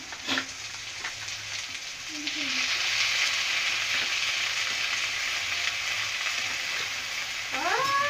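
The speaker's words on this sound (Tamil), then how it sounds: "வெங்காயம் இப்போ நல்லா வதங்கிடுச்சு" Onions sautéing in a pan for an okra curd gravy, a steady loud sizzle with occasional stirring scrapes and clinks.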